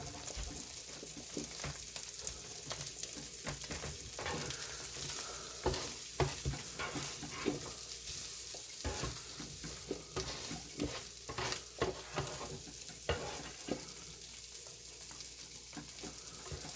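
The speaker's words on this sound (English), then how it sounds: "I'm going to go ahead and start warming up my chorizo" Leftover chorizo warms on a stovetop for breakfast burritos, a steady close sizzle punctuated throughout by frequent scraping stirs of a utensil in the pan, with no voices.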